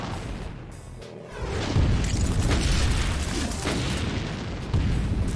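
Explosion in the shooter game Doom: a deep, heavy boom rises after a quieter opening second and rumbles on loudly, with a further low thump near the end.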